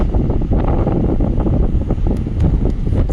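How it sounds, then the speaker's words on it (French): Strong wind blowing sand on a southern Moroccan beach, buffeting the microphone in a constant low roar, with gusty rushing noise and faint hissing throughout. "Le sable vole avec le vent."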